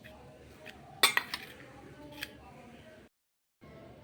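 Bhel is mixed in a bowl with cumin powder and chaat masala, a spoon clinking and scraping against the bowl in a few sharp knocks over soft rustling, then a short gap of silence.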